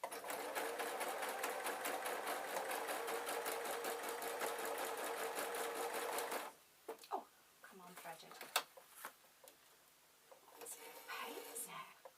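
A sewing machine stitches a peg bag in a steady, close, rapid clatter for several seconds, then stops, followed by scattered handling clicks and fabric rustles.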